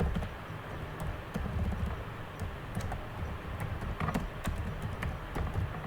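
Quiet, irregular keystrokes on a computer keyboard come in short bursts while a title is entered into an online Google Form, close and soft with no voice over them.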